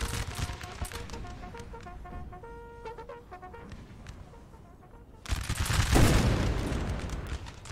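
A volley of cannons and muskets in Napoleon Total War, heard as a rapid crackling fusillade of layered shots with distant booms. It ends in a louder, dense burst of gunfire that rumbles and slowly fades.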